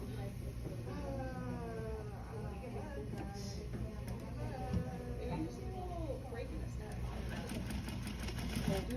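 Sewing machine running steadily while stitching a military-style pocket onto self fabric, a continuous mechanical hum and rattle throughout, with a person talking over it.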